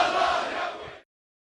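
Libyan protesters cheer loudly together in a roaring swell, then cut off abruptly after about a second.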